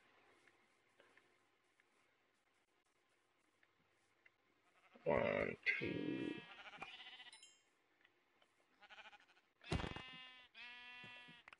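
Sheep bleat in Minecraft, several short wavering calls in two bursts around the middle and end of the clip, loud and close, with a few quiet spoken words earlier.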